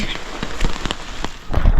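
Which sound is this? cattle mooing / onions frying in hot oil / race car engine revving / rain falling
rain falling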